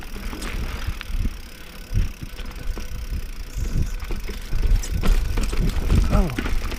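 Mountain bike rolling down a dirt singletrack trail, with rattling tire and frame noise, bumps and rumbling throughout, growing louder toward the end, with brief voices and whoops over the riding.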